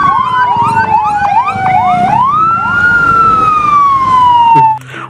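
A toy fire truck plays an electronic siren, loud and close, its tone sweeping up and down in a repeating wail before cutting off abruptly near the end.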